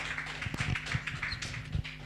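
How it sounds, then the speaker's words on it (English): Audience applause at a book launch panel, a steady crackling wash of many hands clapping at moderate loudness for about two seconds, with no voices over it. "Another round of applause for the panelists."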